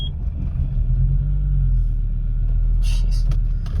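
A 1990 Audi Coupe Quattro, parked for years, rumbles with a steady low engine note close by, settling into a smooth idle with a brief higher hiss near the end.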